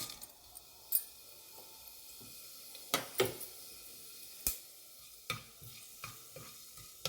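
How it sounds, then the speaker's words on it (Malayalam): Fennel seeds sizzling in hot coconut oil in a pan, a soft steady hiss punctuated by sharp clicks and scrapes of stirring, close and fairly quiet. "എണ്ണ ചൂടായിട്ടുണ്ട് നമുക്ക് കുറച്ച് പെരിഞ്ചീരകം ഇട്ട് കൊടുക്കാം"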